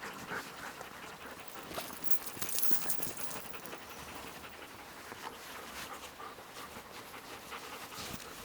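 Resting sled dogs pant rapidly and steadily near a small riverside cabin in snowy mountains, close and continuous, with no talking.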